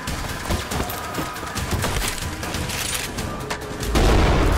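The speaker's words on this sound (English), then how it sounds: "Oh, grenade launcher." Gunfire and explosions from the video game Trepang2 overlap densely, including a grenade launcher being fired, with a heavier boom near the end and no one speaking.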